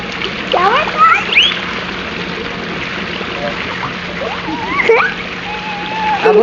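Outdoor shower water splashes steadily on children at a Batangas staycation, a constant wet spray close by, with excited kids' voices and squeals running over it.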